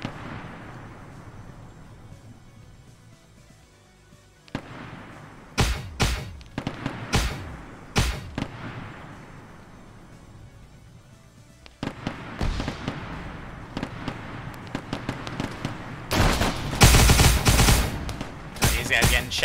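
Bursts of automatic gunfire in the military video game Arma 3, with rapid volleys and sharp single cracks scattered through a low background rumble, building to a loud sustained fusillade near the end.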